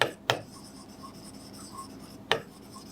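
Marker or chalk strokes on a classroom board during a biology lecture, with a few sharp taps and quiet scratching at close range against a faint steady background, no talking.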